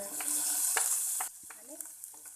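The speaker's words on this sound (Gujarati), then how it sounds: "અને લીમડો નાખી થોડી જ વાર સાંતળી લઈએ।" Vegetables with curry leaves and ginger sautéing in a pan, a steady hiss of frying with a few spatula scrapes, dropping quieter halfway as the sizzle eases, with occasional light clinks.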